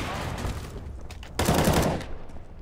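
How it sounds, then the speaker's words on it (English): In the CS:GO video game, a flashbang grenade goes off with a sudden bright burst about midway, cutting through ongoing gunfire and clatter and then fading over roughly half a second. "Gonna throw a flashbang to flash that dude."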